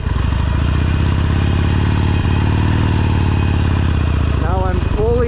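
A motorcycle engine chugging at low revs as the clutch is slowly let out and it pulls away, a steady pulsing throb heard close, with someone talking over it and a rev rise near the end.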